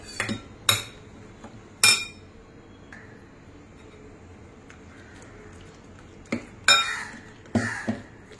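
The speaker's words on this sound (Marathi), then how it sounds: "आणि आता हे आपल्याला सगळं मिक्स करून घ्यायचं आहे" A spoon mixes moong and oats chilla batter in a bowl, giving several sharp clinks and scrapes against the bowl in irregular bursts with quiet gaps between them, close up and without speech.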